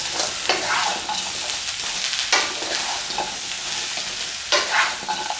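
Ribs with onion sizzle and crackle steadily in a hot wok, with periodic scraping swishes from stir-frying.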